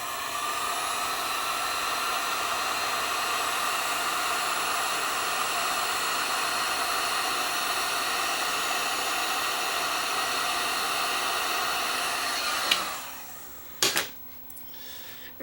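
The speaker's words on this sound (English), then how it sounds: "then we'll heat shrink down this tubing" Heat gun blowing hot air to shrink heat shrink tubing lined with hot melt glue, a steady, loud hiss that runs unbroken for about twelve seconds, then cuts off and gives way to a few clicks and handling knocks.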